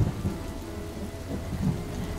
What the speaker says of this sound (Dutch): het water viel echt met bakken uit de hemel